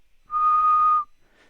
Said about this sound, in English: the second sound will be whistling